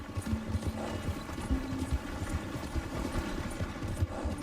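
Rapid rhythmic hoofbeats of a galloping horse in the video game Red Dead Redemption 2 pound steadily throughout, close and fairly loud, over a low background hum.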